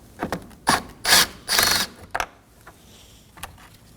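A ratchet works a T30 screw out of the cowl on a 2014-2023 Ford Transit Connect 2.5L, giving close, brisk ratcheting clicks in a few short bursts with brief pauses, then a few faint taps.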